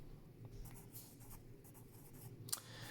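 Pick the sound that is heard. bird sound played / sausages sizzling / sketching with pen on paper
sketching with pen on paper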